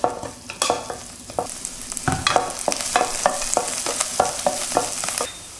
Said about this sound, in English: Stir fry until tender